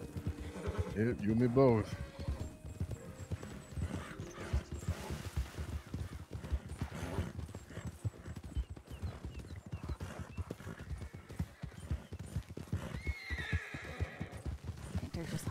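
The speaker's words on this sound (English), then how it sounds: "Wild horse is back there trying to kill me." A wild horse in Red Dead Redemption 2 gives a loud, wavering neigh early on, then steady clip-clop hoofbeats continue beneath ambient game sound while a person talks.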